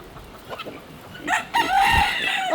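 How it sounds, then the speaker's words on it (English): Guinea fowl calling in a farm barnyard, a few short clucks and then a loud, sustained harsh call close by, with no talk. "Guinea's still making noise."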